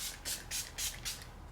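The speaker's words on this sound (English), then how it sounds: "I just spray the whole face like that." Milani Make It Last setting spray is misted onto a face in four quick, soft hissing bursts, evenly spaced and close, with no talking.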